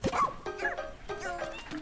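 Puppy barking in the video game Pikmin 4: a quick series of high yips and small barks, fairly close and moderately loud, over game sound.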